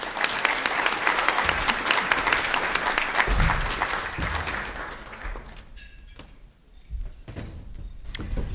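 Audience applause welcoming a speaker to a podium, dense steady clapping for about five seconds that thins out and fades, followed by a few bumps and faint movement near the microphone.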